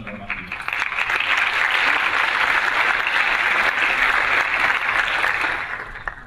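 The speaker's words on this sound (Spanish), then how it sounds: "Un aplauso para Martín." Warm, sustained audience applause for a speaker at a social media conference in Uruguay swells quickly, holds loud and dense for several seconds, then tapers off.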